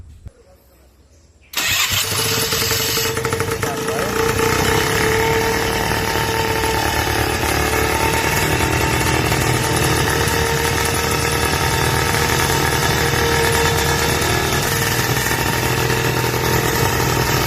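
A homemade paramotor engine built at a national innovation centre catches after a brief quiet moment, then runs loud and steady at close range for the rest of the clip.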